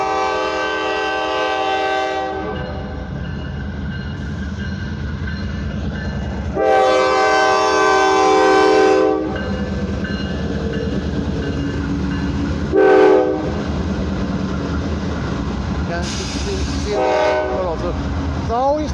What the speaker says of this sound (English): This should be an intermodal.